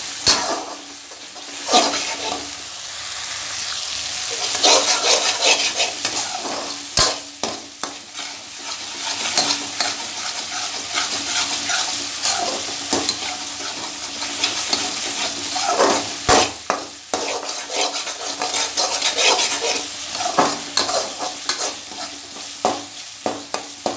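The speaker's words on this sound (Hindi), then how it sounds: "अच्छे से हमने फ्राई करना है, इसका तेल अच्छे से निकलने लगेगा जब," Jackfruit curry masala sizzles and crackles steadily in hot oil, with occasional scraping and stirring against the pan, loud and close, with no voices.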